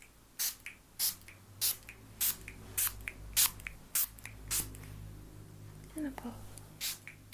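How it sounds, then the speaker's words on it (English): A handheld spray bottle of vetiver gardenia scent is pumped over and over, about a dozen crisp hissing bursts at a steady rhythm, close and intimate, with a soft whispered voice between the sprays. "I'm just going to spray this around you."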